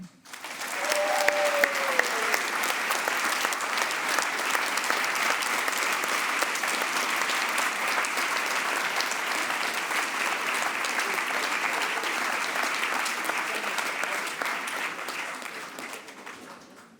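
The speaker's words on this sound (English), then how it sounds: "let's give a big applause for you as the audience as well" A large audience claps steadily and loudly for a long stretch, a dense wash of applause that fades out at the end.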